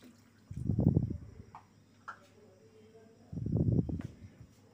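Two cups of water are poured into lentil dal with drumsticks in a cooking pan. Two separate gushing pours, each about a second long, are close and moderately loud, with a quiet pause between them.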